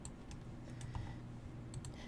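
Computer keyboard arrow keys are tapped while a 3D car shape is lined up in Tinkercad, giving a few sharp, quiet clicks spaced irregularly over a low room hum.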